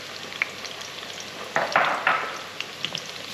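Garlic frying in butter in a pan for spaghetti aglio olio e peperoncino, a soft steady sizzle with a few louder crackling bursts midway and light stirring clicks, no talking.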